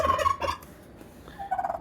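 A pet turkey gobbles in a rapid warbling burst, then falls quiet and gives a second shorter gobble near the end, close and fairly loud.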